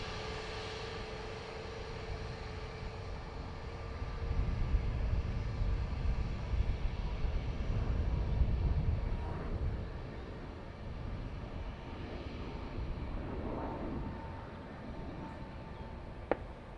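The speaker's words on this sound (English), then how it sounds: "ATR from Edinburgh in the background" An ATR turboprop airliner from Edinburgh at Dublin Airport, a steady distant engine drone with a broad low rumble that swells in the middle and fades, faint and continuous in the background.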